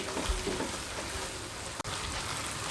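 Semolina halwa with cashews and dry fruit cooks in a pan with a soft, steady sizzle and a few low stirring bumps, quiet and continuous with a momentary break.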